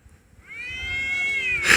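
A cat lets out a long, rising yowl during a fight, drawn out and close, and it breaks into a sudden harsh hiss at the end.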